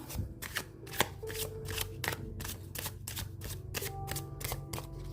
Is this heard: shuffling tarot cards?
yes